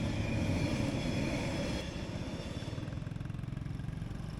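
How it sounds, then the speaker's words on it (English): A train passes on a road crossing in Nha Trang, a loud, steady rumble with rhythmic clacking that grows more pronounced toward the end, with no talk. "Then a train shows up, and the day pauses again"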